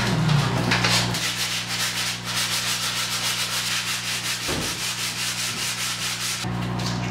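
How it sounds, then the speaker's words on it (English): Steady rasping of sanding against a ceiling, continuous and close, with brief pauses in the scraping. "I'm gonna start sanding the ceiling."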